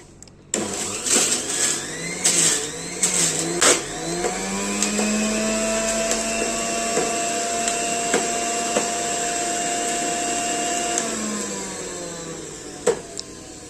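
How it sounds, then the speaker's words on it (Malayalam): A blender whirs steadily as it purees carrots and beetroot for juice, opening with a few short bursts and then holding a loud, continuous high-pitched whine for about ten seconds before it cuts off. "2 ക്യാരറ്റും 1 ബീട്രൂട്ടും അടിച്ചപ്പോൾ ഇത്ര ജ്യൂസാണ് നമുക്ക് കിട്ടിയിരിക്കുന്നത്"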